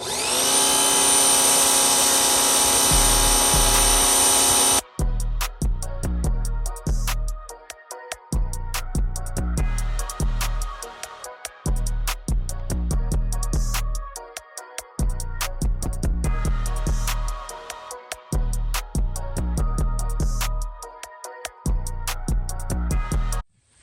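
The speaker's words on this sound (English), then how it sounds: "we're gonna use the low-powered pressure washer, the portable pressure washer, to see how it disperses as well" A low-powered portable pressure washer with a budget foam cannon gives a dense, steady hiss at first. A pulsing, choppy motor drone follows and carries on loud and close to the end.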